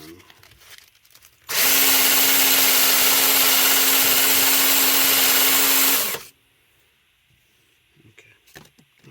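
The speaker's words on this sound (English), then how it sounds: "Now I'm going to take some sandpaper to it and just do the same thing." A powered tool spins against rusty, corroded bolts with sandpaper to clean them, a loud steady whirring grind lasting about five seconds, then stopping abruptly; quiet handling noises before and after.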